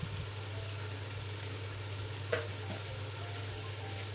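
Ginger garlic paste and red chili spices frying in a pan, giving a steady, soft sizzle with occasional stirring scrapes and small crackles, heard alone at low level.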